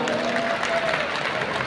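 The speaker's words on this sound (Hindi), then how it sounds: "सर एक बार जोरदार तालियां।" Audience applause at a business gathering, a steady dense wash of clapping hands filling a short stretch at fairly loud level, with no break or voices standing out.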